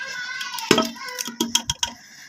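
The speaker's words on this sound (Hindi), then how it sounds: "इसके साथ ही हमने अपना कुकर ले लिया। इसमें हम डालेंगे पहले गोश्त।" Beef pieces dropped into a pressure cooker while making Arabi gosht, a few irregular clanks and metallic clinks of meat and utensil against the pot, close and fairly sharp, with someone speaking briefly in between.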